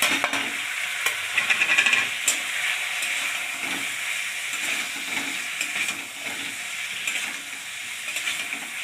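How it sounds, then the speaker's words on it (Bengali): A spice paste of salt, turmeric and chilli powder with tomato fries in a pan, giving a soft continuous sizzle broken by scraping stirs and occasional clinks, close and moderate, with no talking. "মশলাটা একটু ভেজে নিই।"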